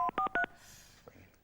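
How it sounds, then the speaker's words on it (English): Three quick touch-tone beeps sound as a telephone number is dialled, clear and close, followed by faint clicks and near silence. "We're about to call one of you right this second."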